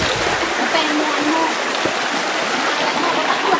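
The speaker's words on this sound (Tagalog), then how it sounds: "dumadaan kami sa ilog" River water rushes past on a hike at Mount Pinatubo, a dense, steady splashing flow heard close and fairly loud throughout, with no clear talking over it.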